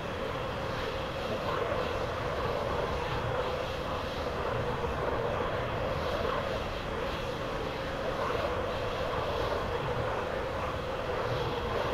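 Eurofighter Typhoon jet engine in Microsoft Flight Simulator, a steady broad roar that holds level and continuous throughout, loud and close.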